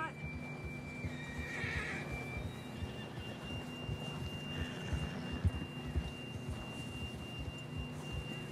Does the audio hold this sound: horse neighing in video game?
yes